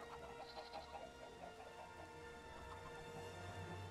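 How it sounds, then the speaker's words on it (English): Chickens cluck in the Minecraft Jurassicraft video game, a soft continuous flock of repeated clucks over low game background noise, with no talk. "My chickens are gonna run away."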